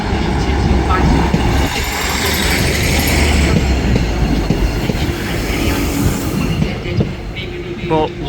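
Avanti train at Manchester Piccadilly station, a loud close rumble of rolling stock with rattling wheels and brief squeals, set against station echo and faint background chatter.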